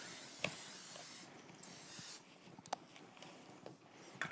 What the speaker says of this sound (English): But for this, simple spray oil works.